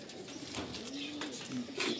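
Pigeons in a loft give a soft, low coo that rises and falls under a steady rustling background, close by and fairly quiet, with no talking.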